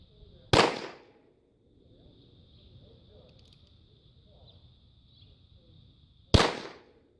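Two .22 caliber CCI Copper rounds are fired in a penetration test, each a loud, sharp crack, spaced about six seconds apart with a faint steady hum between them.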